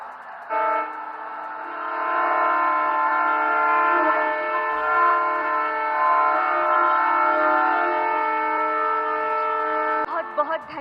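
A train horn sounds one long, steady blast at a flag-off ceremony launching new rail services between Jaynagar and Patna in Bihar. It holds for about ten seconds before cutting off.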